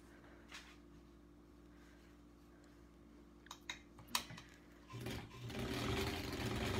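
A portable sewing machine doing appliqué work gives a few clicks and handling taps, then starts stitching with a steady, close mechanical whir that runs to the end.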